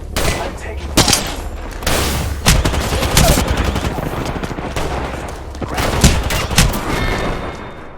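Gunfire in the shooter Apex Legends: loud, close bursts of rapid shots and scattered single cracks over a constant rumble of battle, running for several seconds with brief gaps between volleys.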